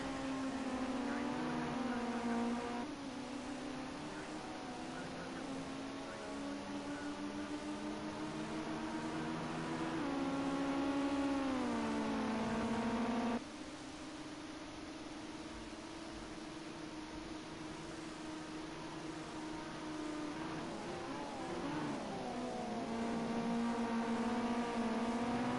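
Ginetta GT5 race cars lapping the Red Bull Ring, a steady high engine drone with shifting harmonic tones as revs rise and fall, one car's note sliding through gear changes, continuous and fairly close.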